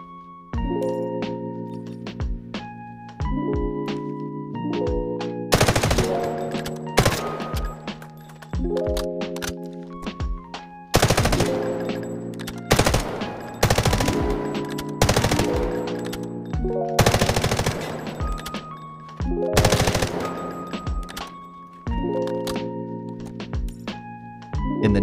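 Automatic gunfire in the mobile shooter game Delta Force Mobile: repeated rapid bursts in sharp volleys, set over a looping tonal background, with no voices.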